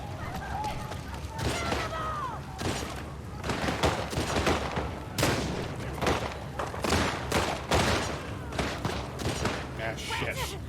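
Bursts of gunfire from The Last of Us Part 2 crack out in rapid irregular volleys, with sharp close shots and thuds following one another amid shouting voices.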